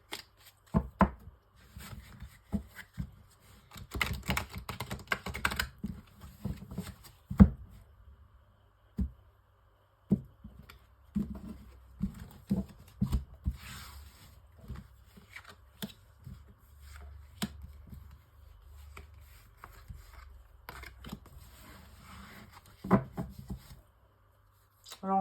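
Oracle cards being shuffled and drawn, soft riffling and slapping bursts in irregular clusters, close and quiet, with brief pauses between handfuls and a little talking mixed in.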